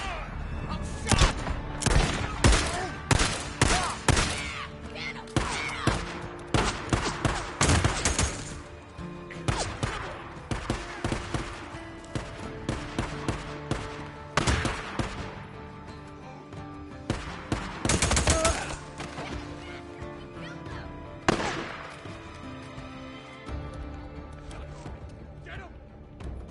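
Gunfire from the zombie survival video game Days Gone, with repeated loud bursts and volleys of shots, some rapid and automatic, scattered through the whole stretch under game music and a voice calling out.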